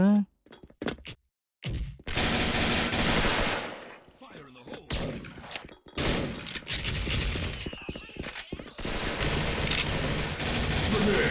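Rapid automatic fire from an AK-74 rifle in a video game, in dense bursts with short gaps, loud and close, interrupted by a few thuds and mechanical clicks, with some talk mixed in.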